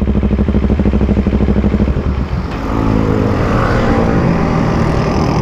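An NK400 motorcycle idles loud and close with a rhythmic, pulsing engine thrum that rattles through the exhaust pipe, then the engine note changes and settles into a steadier rumble; no one speaks.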